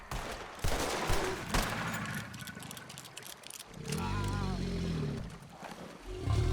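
Gunfire in Red Dead Redemption 2 on PC during a fight with a large charging creature: a few sharp, loud shots ring out amid tense action, with a low growling roar and game sounds in between.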